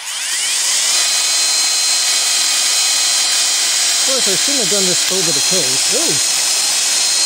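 A HOTO 12V cordless brushless drill runs loud and continuous, driving a self-tapping screw through to the end, while someone speaks briefly over its whine near the close.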